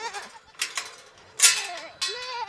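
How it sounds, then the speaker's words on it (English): A small herd of goats bleats close by, several wavering cries in quick succession, loud and alone over quiet background. "it looks like about 15 or 20 goats"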